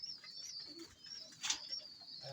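Pet pigeons or doves give soft, close cooing calls, one brief louder call standing out near the middle, quiet and without talking.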